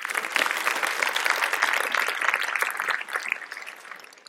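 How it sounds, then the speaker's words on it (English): A conference audience claps for a speaker taking the stage for a talk, a full, sustained round of applause that stays loud for a few seconds before gradually thinning out. "You're applauding before I've even started."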